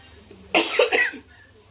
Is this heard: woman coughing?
yes